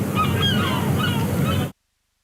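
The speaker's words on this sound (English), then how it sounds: "They're crooning, the seagulls are crooning." Seagulls calling at a seaside cricket ground in Sussex, a flurry of overlapping wavering cries moderately close, over a low background rumble, stopping abruptly.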